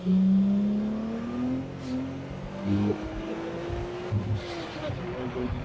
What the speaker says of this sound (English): See if she'll let us do a second gear pull.